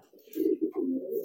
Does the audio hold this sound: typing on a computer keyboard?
no